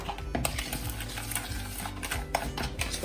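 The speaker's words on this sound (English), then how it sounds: "just gonna stir this" An oil mixture for a homemade sugar scrub is stirred steadily in a container, with continuous close scraping and swishing in a regular rhythm and no talking.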